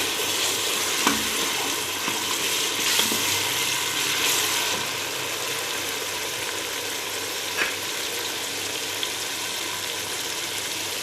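Spiced masala with plenty of tomatoes frying in a pan for an arvi and baingan curry: a continuous, fairly loud sizzle with occasional light scraping and clicks of a spoon stirring.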